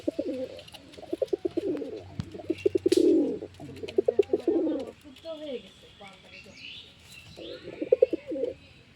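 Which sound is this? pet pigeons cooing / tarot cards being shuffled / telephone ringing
pet pigeons cooing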